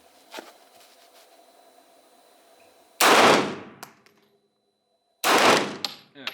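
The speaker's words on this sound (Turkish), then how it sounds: "10 el atış yapacağız. Canik L120." A Canik L120 pistol fires during an outdoor shooting test, two loud sharp reports about two seconds apart, each cutting in abruptly and ringing out briefly, with faint background sounds between.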